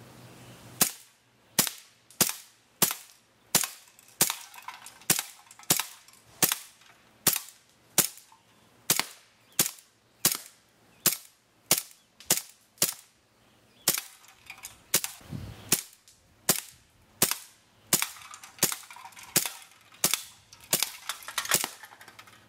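Rapid string of sharp, loud pops from a Swiss Arms P92 / GSG-92 CO2 airsoft pistol, fired shot after shot at a steady quick rhythm for over twenty seconds, with no voices.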